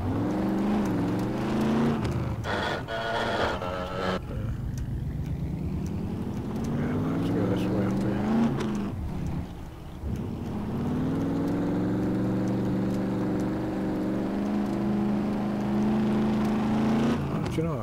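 A car engine in a video game labours uphill, a steady droning roar whose pitch sags and climbs as it revs, with brief rough bursts near the start and loud throughout.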